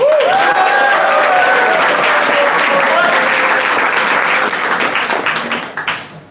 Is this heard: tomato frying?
no